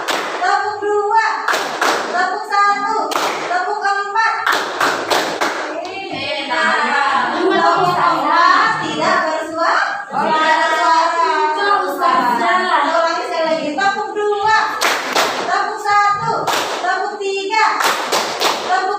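Students in a chemistry classroom clap in a call-and-response focus exercise, short bursts of sharp claps alternating with a teacher's voice and children chanting, close and loud.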